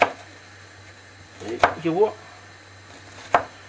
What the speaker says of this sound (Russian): Так что подготовим лук. Достаточно мельненько его надо нам подготовить.